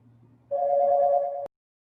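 A telephone rings once in a steady electronic tone during an online Zoom meeting, loud and close, lasting about a second before cutting off abruptly over a faint low hum.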